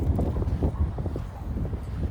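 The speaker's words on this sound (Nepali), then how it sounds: "कस्तो हावा चलेको हे" Wind gusting in open sandy desert, a constant close rumbling buffet of gusts striking the microphone, loud and without any voices.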